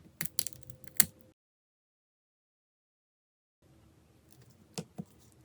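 Sticky, dirty buttons on a Nokia 1280 phone keypad pressed by hand: a quick cluster of sharp plastic clicks, a long silent pause, then a few more separate clicks, close and fairly quiet.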